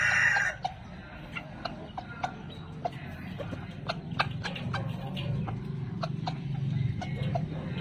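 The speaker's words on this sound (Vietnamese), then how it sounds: "Gà tơ nha." A young American Asil chicken makes a scattered series of short clucks over a low, steady background, some louder and close, others softer.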